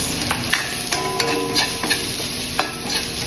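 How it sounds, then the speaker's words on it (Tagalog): Onions sautéing in a pan for a mung bean dish with shrimp and bagnet, with a steady close sizzle and repeated spatula stirring clicks and scrapes against the metal. "Translucent pa yung sibuyas."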